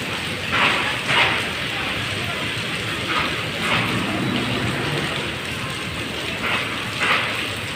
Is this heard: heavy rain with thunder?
yes